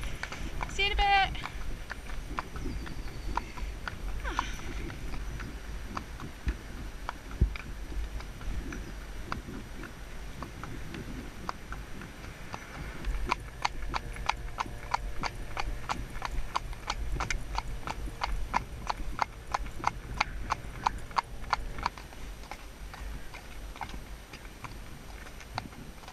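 Hooves of a ridden horse clip-clop steadily on a hack, with a quickening run of regular strikes through the latter half, under outdoor wind noise and occasional talk from the rider.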